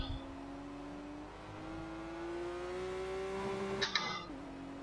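A BMW 1M engine in the Project Cars racing game revs up steadily, a faint rising drone held for several seconds before a brief higher burst and a drop in pitch.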